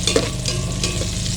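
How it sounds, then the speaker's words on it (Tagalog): Garlic and onion sauté in a hot pan, a brief close sizzle with a couple of spatula clinks at the start and no talking. "nangangamoy na po ang bawang at sibuyas. Ginigisa po ang bango-bango"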